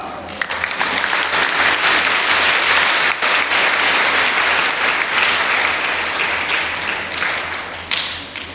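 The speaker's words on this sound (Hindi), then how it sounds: "अपने लिए ताली बजाएं एक बार।" Steady, dense applause from a sizeable group at a girls' summer camp festival, loud and sustained for several seconds before tapering slightly at the end.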